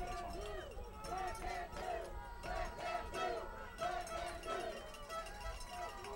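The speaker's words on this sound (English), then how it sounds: "Duluth has an impressively large cheering section that's traveled down here from Minnesota" A large traveling cheering section of Duluth rugby fans at a men's DII college championship game chants and shouts in rhythmic, rising bursts, a crowd in the middle distance with a voice talking over it.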